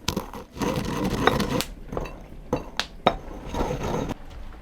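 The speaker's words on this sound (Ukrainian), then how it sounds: "Усе це ретельно перемелюємо традиційно у нашій ступці." A pestle grinds a mix of peppers, garlic and dried onion in a mortar, a close, loud gritty scraping and crunching with sharp knocks of the pestle against the bowl in an uneven rhythm.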